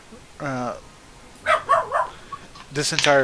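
A dog barks nearby in several short, loud yips and woofs, one burst, then a quick cluster, then another, with a whimpering tone, during a tabletop role-playing game session.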